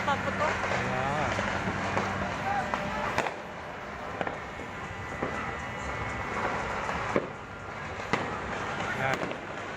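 Fireworks and firecrackers burst in a continuous crackling barrage at a New Year's midnight celebration, with sharper individual bangs standing out and people talking throughout.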